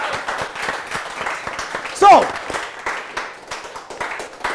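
A quiz show audience claps in a thinning, uneven patter. A brief tonal swoop cuts in midway, and a voice starts speaking near the end.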